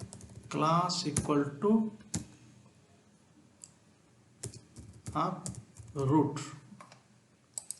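Typing code on a computer keyboard while working in Angular, with rapid clicking keystrokes heard close under steady talk from a person explaining the work.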